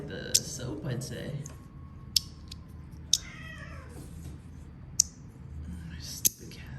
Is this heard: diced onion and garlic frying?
no